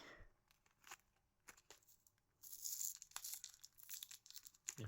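Packaging being torn open with effort, a few short ripping bursts followed by a longer, louder stretch of crinkly tearing and rustling toward the end, close up.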